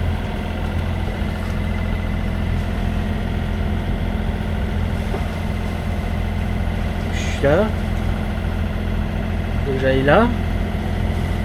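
A sailboat's engine drones steadily at sea, a continuous low hum with strong harmonic tones, while someone talks briefly over it and two short rising squeaks or whistles cut in near the end.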